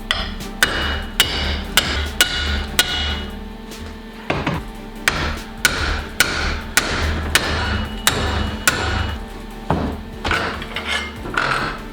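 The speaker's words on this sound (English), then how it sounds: "It's a lead hammer." A lead hammer strikes metal in repeated heavy blows during a campervan build, roughly one every half second to a second. The blows come in bursts with short pauses, loud and close, and there is no talk.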